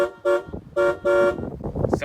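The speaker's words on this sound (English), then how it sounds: "Just the horn is just beautiful." A 1999 Cadillac Fleetwood Limited sounds its horn in three short, loud toots, a pair of clear chordal blasts followed by a longer one, with quieter rumble and faint sounds between them.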